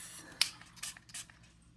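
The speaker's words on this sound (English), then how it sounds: "Let me go ahead and spray this." A few short, sharp spray bursts from a Kilian perfume bottle, quick hissing puffs in a quiet room, the loudest one early and two more following.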